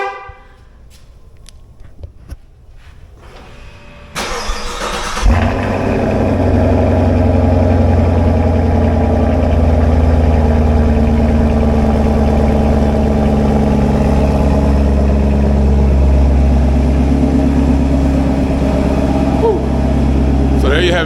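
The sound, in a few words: 2023 LT1 car engine starting up and running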